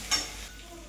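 Chilli, ginger-garlic paste and chicken being sautéed in a pan make a short, faint sizzle with a soft stirring scrape near the start, then a quiet hiss.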